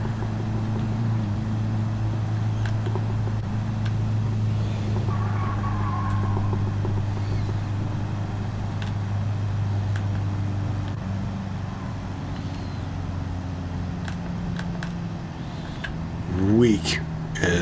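A slow, underpowered truck in Gran Turismo 7 straining along at about 50 miles an hour, giving a steady, low, droning engine hum that holds nearly constant and swells briefly near the end.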